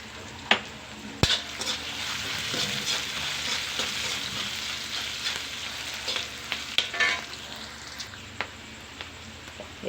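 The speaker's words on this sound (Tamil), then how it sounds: "கொஞ்சம் கருவேப்பிலை கொஞ்சம் நல்லா வதங்கணும்." Curry leaves with onion sautéing in a hot oiled pan: a steady close sizzle with intermittent stirring scrapes and a sharp clack of the spoon early on, no voices.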